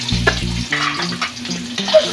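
Chopped ginger hits hot cooking oil in a pan for a Filipino chicken dish, a loud crackling sizzle with stirring scrapes, close and continuous with no talk.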